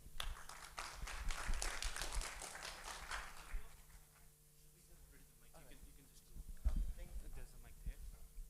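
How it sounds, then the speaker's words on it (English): An audience at a conference session on nature-based solutions applauds a speaker, dense clapping for the first few seconds that thins and fades into a quiet hall with scattered footsteps and soft voices. "A round of applause for Mr. Amin."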